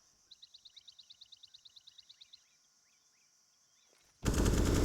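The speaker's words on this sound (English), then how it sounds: "So GXX has time to line up a shot with the AWP" Rapid automatic gunfire from the video game Counter-Strike: Global Offensive, a quick burst of about fifteen evenly spaced shots, then quiet and a sudden loud blast of noise at the end.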